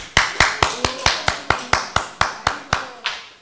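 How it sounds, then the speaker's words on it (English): Clapping at a Śrīmad-Bhāgavatam lecture, about a dozen sharp, evenly spaced claps in a steady beat, close and clear, with no voices over them. "Give a round of applause for Dr. Dean."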